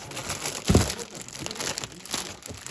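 Plastic food storage bags crinkle and rustle as they are handled, with a sharp louder crunch early on followed by softer, uneven crackling close by.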